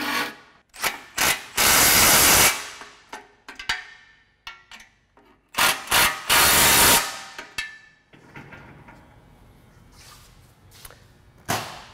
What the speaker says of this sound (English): And now just tighten them up.